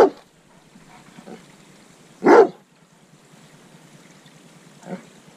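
A dog gives a few short barks, one loud and close, with a couple of fainter yips spaced apart and quiet pauses between them.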